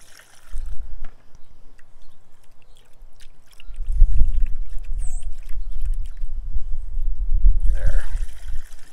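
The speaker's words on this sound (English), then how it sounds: "then pour in the mixture" EM (effective microorganisms) mixture is poured into a container, giving a steady liquid trickle and glug that strengthens midway and runs continuously, close and fairly loud, with no talking.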